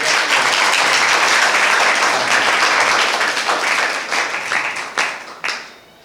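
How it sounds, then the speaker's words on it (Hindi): A school audience of government school girls in Madhya Pradesh breaks into loud, close applause for someone speaker, dense clapping that swells and then thins into scattered claps before fading out. "तालियां बजा दीजिए लड़की के लिए।"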